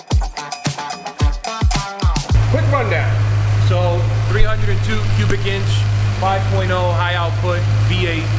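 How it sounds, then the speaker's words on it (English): A 1993 Ford police car, likely a Mustang 5.0, idles with a steady low engine and exhaust rumble after a few sharp bursts, while someone talks over it throughout. "Exhaust sound they always made was always a favorite for all the Ford fans"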